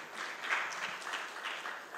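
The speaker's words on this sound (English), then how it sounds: "Let's clap." A workshop audience claps in a hall, soft and fairly distant, a scattered patter of hands continuing briefly without speech.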